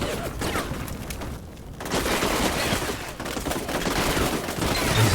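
Gunfire fills the video game Combat Mission Shock Force 2 as a squad is ambushed in Al Fubar. Dense bursts and shots run without pause and crackle loud throughout.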